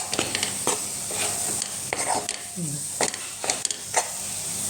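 Rice, jaggery and grated fresh coconut with ghee being stirred in a kadhai, a spoon scraping in repeated sweeps with a soft sizzle underneath, close and moderately loud, with faint voices now and then.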